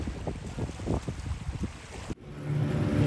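Motor boat noise with wind and water wash off Funzi Island, Kenya, heading toward mangroves, a steady low rumble that shifts partway through to a louder, smoother engine drone.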